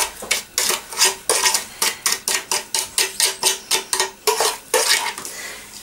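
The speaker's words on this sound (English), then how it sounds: "now I'm gonna transfer all the sugar in" Sugar is moved into a pan, giving a quick series of rhythmic scraping, clinking strokes of a utensil against the pan, close up with no voices.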